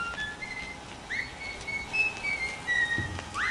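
In the video game Bendy and the Ink Machine, a few short, bright whistle tones chirp and slide one after another over a quiet, hissy background.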